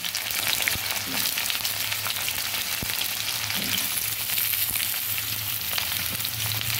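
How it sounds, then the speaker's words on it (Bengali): Potatoes and papaya fry in a hot pan for a desi chicken curry, a close, continuous sizzle with faint scattered crackles throughout and no voices. "তারপর আলুগুলো দিয়ে ভেজে নিচ্ছি, পেঁপেগুলো দিয়ে দিচ্ছি।"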